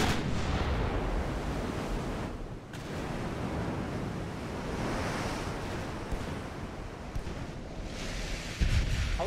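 Naval artillery booms among warships at sea in Ultimate Admiral Dreadnoughts, dull heavy blasts rolling over a constant wash of ocean surf and wind.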